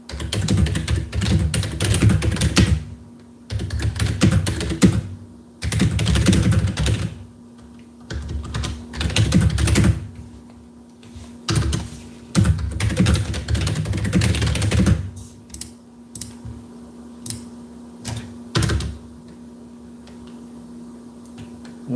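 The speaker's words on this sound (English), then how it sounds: "Typing on the keyboard." Typing on a computer keyboard, steady bursts of clicking keystrokes close up, pausing now and then, with a faint constant hum beneath and no voices.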